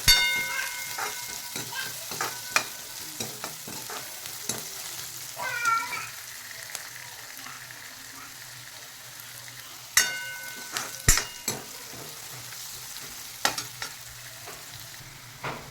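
Onions fry for a sprouted moth bean curry, making a steady sizzle while a spoon repeatedly scrapes and clacks against the pan. A brief high squeal comes midway, and nobody talks.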